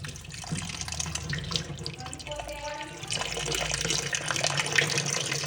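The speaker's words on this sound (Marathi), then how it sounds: "चार पाच पाण्याने स्वच्छ धुवून घ्यायचं" Tap water runs steadily into a sink with splashing and rinsing as lemons are washed under the stream, no voices.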